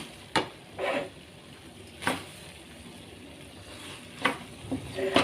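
A spoon stirring rice in a pot while cooking tomato rice, with several scraping, rustling strokes spaced irregularly and a quiet, faintly sizzling background between them.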